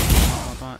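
A short, loud burst of German MG34 machine gun fire in the Pavlov VR shooter game, a dense blast that quickly tails off.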